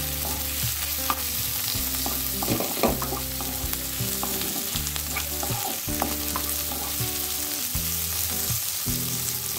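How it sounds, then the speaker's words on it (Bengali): Onions sizzle and crackle steadily in hot oil in a pan, cooking for a potato, papaya and chicken curry, with occasional stirring scrapes and no talking. "তাহলে পেঁয়াজটা খুব ভালো করে ভাজা হয়ে গেছে"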